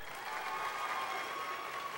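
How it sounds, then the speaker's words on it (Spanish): A crowd applauds a female contestant at a dance contest, a dense steady clapping that holds evenly throughout without a pause. "Aplauso para ella."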